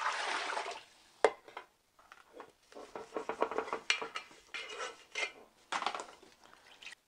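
Dishes and pots clatter and clink as they are loaded into a dishwasher, in irregular close knocks and scrapes with some water-like rushing between them.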